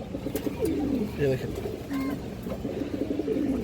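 A large female pigeon gives low, throaty coos in short repeated bursts, close by, while someone talks over the cooing.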